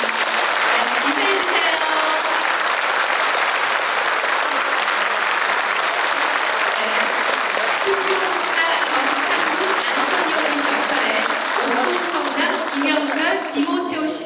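Sustained, loud applause from a concert audience fills the hall after choirs from Jinju and Seoul are introduced at a Korean martyrs cantata performance, steady throughout with a few faint voices underneath.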